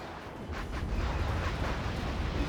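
Rumbling explosions from a real-time strategy battle in Act of Aggression as a helipad in an enemy base is blown up, a dense, continuous roar of blasts and debris sustained loudly throughout.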